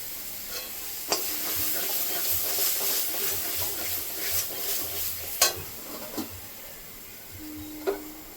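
A spice mix with Kashmiri chili powder fries steadily in a pan, hissing and sizzling throughout, with occasional sharp clinks and scrapes as it is stirred.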